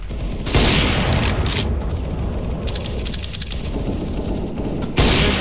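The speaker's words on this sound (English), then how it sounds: "Throwing flashbang." A flashbang grenade bursts in a tactical shooter game, a loud blast leading into dense, sustained gunfire and booming noise.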